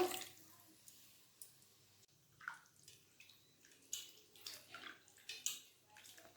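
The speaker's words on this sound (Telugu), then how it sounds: "చికెన్ని బాగా కడుక్కోవాలండి, వాటర్ వేసుకొని 2 సార్లు." Chicken pieces washed in water, with soft sloshing, squishing and dripping in irregular bursts, fairly quiet and close, with no talk.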